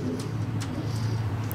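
Pigeons coo in a Greek pigeon club loft, a low repeated cooing that carries on close and steady with a few faint chirps above it.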